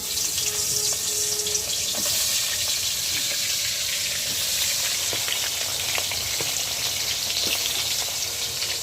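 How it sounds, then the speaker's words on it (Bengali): Pieces of rui fish and fish heads fry in hot oil, giving a steady, close sizzle with scattered crackles and spits that continue evenly throughout, with no talking. "প্রথমে এখন মাছ ভাজি করব আর মাছের মাথা ভেজে নিব"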